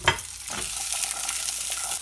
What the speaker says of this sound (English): So I'm just going to put some oil in a pan.